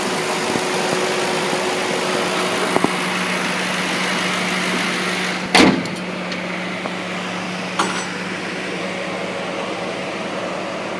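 A 2008 Ford Crown Victoria Police Interceptor idles steadily with a low, even engine hum, a brief sharp knock or clunk near the middle and a softer one later, with no one talking.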